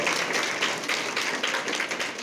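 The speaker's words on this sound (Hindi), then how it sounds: "दौड़ के ताली बजा दो" Children at a Saraswati Shishu Mandir school clap their hands in a lively burst of quick, uneven claps that runs continuously at moderate loudness.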